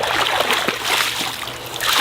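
Water splashes and sloshes as a koi viewing bucket is dipped and filled from a pond, close and continuous for about two seconds with small splatters throughout.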